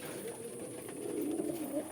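A low, rolling coo from pigeons kept on a farm, one drawn-out call swelling toward the end over a soft background murmur of other birds.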